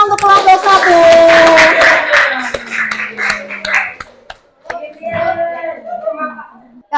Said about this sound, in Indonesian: Tepuk tangannya mana untuk kelompok 1?